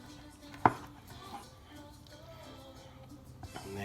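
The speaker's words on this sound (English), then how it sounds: "Then the tomato, I usually do a really big tomato. But usually what I'll do is I'll cut it in half." A knife slicing a big tomato in half on a cutting board, with one sharp knock as the blade hits the board, then quieter handling noises, close up with no talking.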